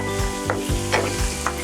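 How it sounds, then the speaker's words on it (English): Carrots, garlic and scallions sauté in a hot pan over near-high heat, with a steady sizzle broken by repeated scraping stirs. "I turned the heat back up almost to high and let it continue to saute until the carrots start to soften"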